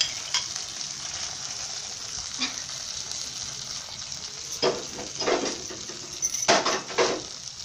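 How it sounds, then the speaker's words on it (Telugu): Tempering with curry leaves for Tamil Nadu katte pongali sizzles in a pan, a steady hissing fry broken by bursts of louder crackle and spatter and occasional utensil clinks, with no talk. "తిరగమాట వేసేస్తున్నాను"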